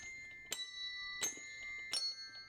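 Small bells from a set are struck three times at a slow, even pace, and each strike gives a bright, ringing tone that lingers in the quiet.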